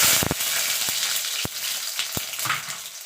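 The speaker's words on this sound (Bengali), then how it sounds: "এবার রসুনগুলো দিয়ে দেবো" Garlic cloves fry in hot oil just after dried chilies, hissing in a close, steady sizzle punctuated by several crisp clicks of a spoon against the pan.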